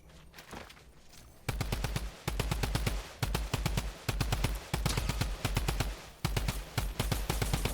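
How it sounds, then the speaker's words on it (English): Rapid automatic fire from a drum gun in Fortnite rattles in long, evenly spaced bursts after a quieter opening, each burst a dense string of sharp shots, with no talking over it. "The drum gun is my favorite weapon to shoot people out of the sky with"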